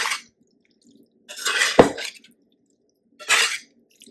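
Cauliflower Veracruz with olives and capers being mixed in a pan, three short separate bursts of scraping and clinking with a brief metallic knock, close and alone.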